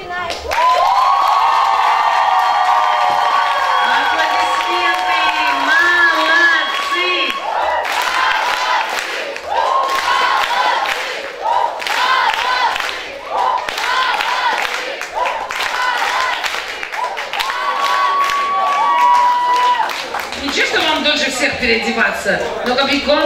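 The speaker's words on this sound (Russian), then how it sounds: "зал аплодирует, потому что действительно это было очень красиво" An audience in a hall applauds and cheers loudly and continuously, with shouts and whoops over clapping, while voices and music carry through the crowd noise.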